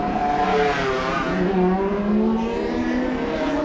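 A 1986 Formula One race car on the final lap, its engine screaming loud and steady at high revs as it passes close, with a continuous droning tone.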